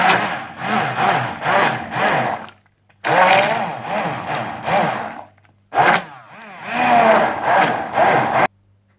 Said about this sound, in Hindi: सबसे पहले आप टमाटरों के कैन को थोड़ा सा ब्लेंड कर लीजिए।